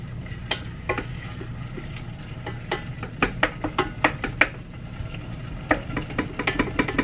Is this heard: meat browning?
yes